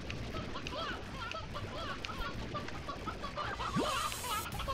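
Chickens in Slime Rancher cluck in a busy overlapping flurry of short calls over a constant background wash, with a voice speaking over them.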